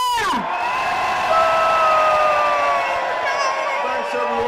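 A crowd at a UK farmers' protest cheers and whoops loudly on cue, a sustained roar of voices with shouts and horn-like tones carrying through the whole stretch.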